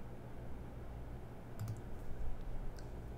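A few faint computer mouse clicks, two close together and then one more, over a quiet steady room hum.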